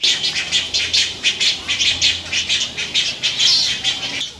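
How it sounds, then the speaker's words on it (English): Loud, repeated bird squawks and calls pulse rapidly overhead in Charleston, South Carolina, a flock calling over and over with no talking. "I don't know if you can hear all the birds as I look up overhead"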